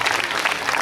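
An audience applauds a DJ at a summer salsa festival, a dense, continuous patter of many clapping hands, loud and close, with no individual claps standing out.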